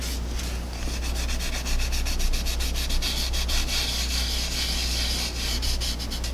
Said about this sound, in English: I'm just gonna kind of lightly sand with these polishing cloths.